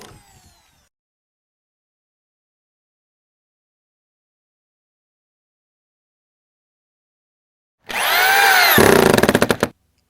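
A power drill drives screws through transition plywood into a halfpipe's deck support beam, one loud sustained whirring burst near the end after long silence.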